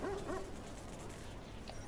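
A dog gives a few short yips and whimpers near the start, then fades under a steady background hum.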